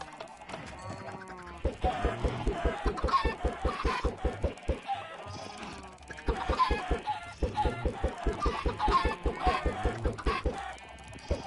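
Chickens clucking in Minecraft: bursts of rapid, close, loud clucks in quick rhythmic runs, pausing briefly and starting again, with several birds overlapping.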